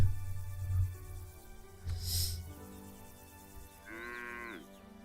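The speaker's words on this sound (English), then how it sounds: "I'm swishing my way through a herd of 24 cattle, shoving ribs and rumps around until I get to Fiona" Several cattle low in a video game herd, with a long deep moo up front, a couple of shorter moos in the middle and a higher, wavering moo near the end, over a faint low hum.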